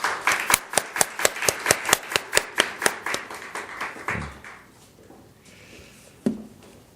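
Applause in a church, a group clapping in a quick, fairly even rhythm of distinct claps that gradually thins and fades, with a final isolated clap near the end.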